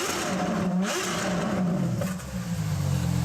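The LaFerrari's engine roars up through revs in a loud, close burst, pitch climbing and dipping then settling into a deeper throb, with no speech.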